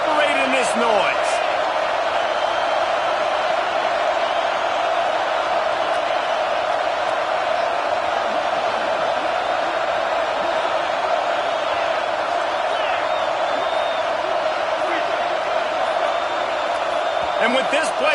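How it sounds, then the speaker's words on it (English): A stadium crowd at a Tennessee vs North Carolina college football game roars steadily and loudly throughout, a dense sustained wall of noise near a goal-line play. "with this place rocking, the crowd forces a false start"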